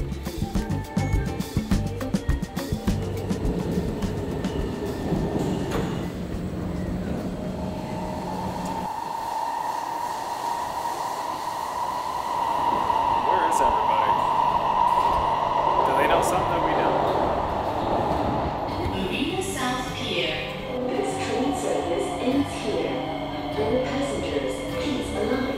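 Rumble and whine of a Singapore metro train while riding inside an empty carriage, a steady hum with a rising electric motor tone, rattles and brake squeals, loud and close throughout.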